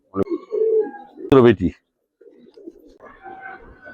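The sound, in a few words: Giribaz pigeons cooing on a pigeon farm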